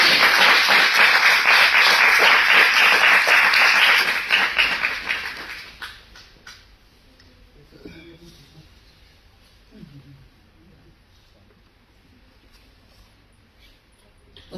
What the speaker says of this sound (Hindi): और आप सबकी जोरदार तालियों के बीच